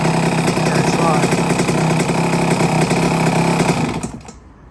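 A loud, buzzy two-stroke engine of a 1982 Suzuki RM 125 motorcycle runs steadily up close, then cuts off abruptly near the end and falls silent.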